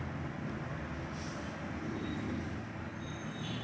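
A Mumbai local train rumbles steadily at close range, a continuous low rolling roar of wheels and carriages with no pauses and no voices.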